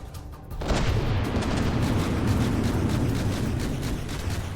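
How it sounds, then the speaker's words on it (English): Torpedoes exploding in the naval game From the Depths, heard as a sudden deep boom followed by a long, heavy roar that rumbles and holds steady for several seconds. "Some good old torpedoes as well."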